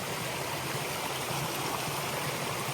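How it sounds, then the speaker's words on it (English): A small waterfall bubbles beside a hiking trail, its steady broadband rush of falling water continuous and fairly close, with no voices over it. "I came across my first water feature of the day."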